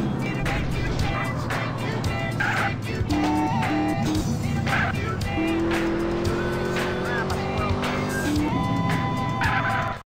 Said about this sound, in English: Now drive faster.